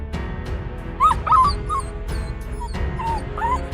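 A dog in an animated cartoon scene lets out several close, sharp barks and yips with whimpering cries in between, over a quiet background.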